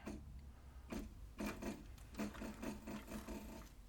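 A Cobra Class 26 sewing machine stitches a leather hat patch, producing faint, close rhythmic thumps of the needle in short runs with brief pauses between.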